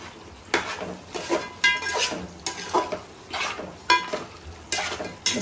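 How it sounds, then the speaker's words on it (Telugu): A spoon stirs mutton curry with chili powder in a metal pan, giving loud, close, rhythmic scraping strokes with sharp clanks roughly every half second over a faint background hiss, with no talking. "ఒకసారి కలుపుకుందాం."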